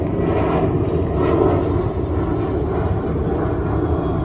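Norwegian Airlines airplane flying overhead, a loud, steady broadband engine roar filling the whole stretch without talk.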